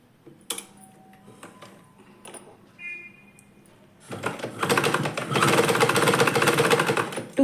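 A sewing machine runs a steady, loud stitching burst on folded salwar lining fabric, following a few quiet clicks and handling sounds, close up with no talk.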